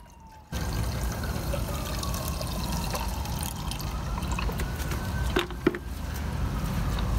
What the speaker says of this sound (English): I'm now going to pour the acid into the unit